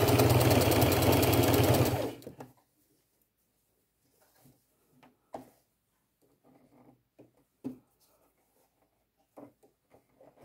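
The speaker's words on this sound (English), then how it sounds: "and sew over top of this elastic. Pull, sew all the way down" A sewing machine stitching over elastic on a thrifted garment sleeve, a loud rapid mechanical whir for about two seconds that then stops, followed by faint handling rustles and soft knocks.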